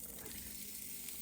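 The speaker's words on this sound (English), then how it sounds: "Are you ready for the sizzle?" Venison sizzles in olive oil in a pan, a steady, faint hiss of frying that carries on through the whole short moment with no talking.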